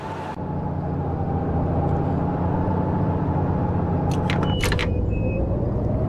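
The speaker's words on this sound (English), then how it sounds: "Oh, the old gear change sounds." A car drives along in the survival game DayZ, with a continuous low engine drone and a few sharp clicks of gear changes near the end, heard alone without speech.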